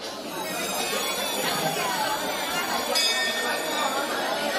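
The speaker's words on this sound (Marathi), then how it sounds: "घंटा वाजली." A temple bell rings steadily during a worship ritual, its bright metallic tone ringing on over a murmuring crowd for the whole stretch.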